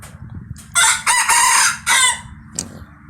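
Close, loud crowing from a young Thai fighting rooster, a single extended call in a few segments, followed by a brief faint squawk against low background noise.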